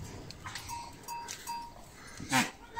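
Goats and their young kids on a highland farm, with faint bleats and a clear louder bleat near the end, alongside soft tinkling bell tones over quiet outdoor background.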